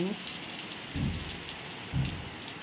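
Steady rain falls outdoors with clothes left out on a line, a continuous broadband hiss of drops hitting surfaces, with two brief low thumps or swells rising above the constant patter.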